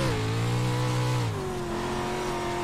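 Rallycross car engine in the iRacing sim, revving high then dropping and settling into a steadier lower drone as the throttle eases, loud and close throughout with no talk.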